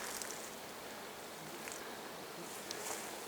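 Bees crowd a flowering maple, a soft continuous buzz with faint rustling and a few brief closer passes.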